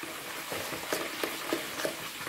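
Batter-coated fish dropped into hot oil, a soft continuous sizzle and crackle with a few brief splashy bursts as pieces hit the pan, fairly quiet and close, with no talking.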